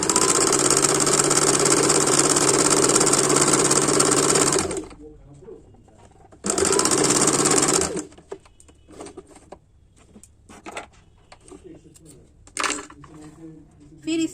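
A sewing machine stitching a folded fabric hem, loud rapid mechanical whirring for several seconds, a pause, another short burst, then quieter handling noises and light taps with some talking.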